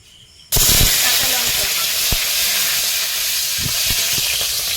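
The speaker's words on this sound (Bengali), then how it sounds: "কড়াইটা ধুয়ে বসিয়েছি এখন ওর মধ্যে তেল দিয়েছি একটু কালো জিরে দেবো" Nigella seeds dropped into hot oil in a wok produce a sudden loud sizzle that starts abruptly and continues as a steady hiss with scattered crackles and pops.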